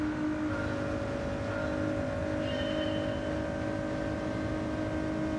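American race car at Daytona in Gran Turismo 7, engine holding a steady high drone with strong sustained tones over a rough low rumble, continuous and fairly loud for several seconds with no talking.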